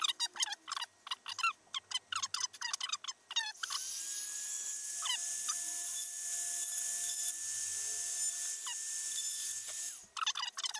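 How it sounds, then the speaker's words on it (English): A power drill bores holes into the plastic body of a Traxxas TRX-4 scale trail RC crawler, a loud steady whine lasting about six seconds with brief bursts around it. "I'm going to get my drill, and I'm going to drill a few holes."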